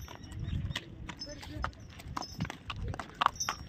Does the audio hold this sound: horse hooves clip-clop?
yes